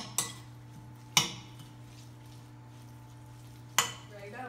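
A utensil stirs a vinegar and habanero mixture in a bowl, giving three sharp, separate clinks against the bowl over a quiet, steady background hum.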